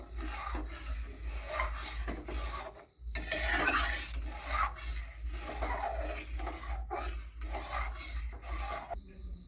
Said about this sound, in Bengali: এইভাবে এখন নাড়তে থাকবো